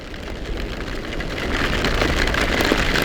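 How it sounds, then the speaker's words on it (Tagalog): Heavy rain pours down during a camping trip on the way home, a steady, dense hiss of drops on surfaces that grows slightly louder and fuller over a few seconds, with no voices. "Bumagsak na yung ulan."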